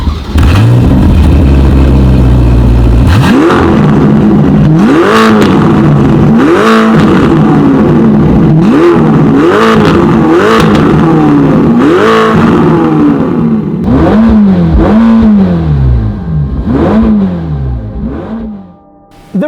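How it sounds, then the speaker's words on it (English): A Ferrari Portofino's turbocharged engine and quad exhaust revving loudly and close by, a series of sharp repeated blips rising and falling over a running idle, with no talk. "we have a quad exhaust that for a turbo car, and for any car for that matter, sounds amazing"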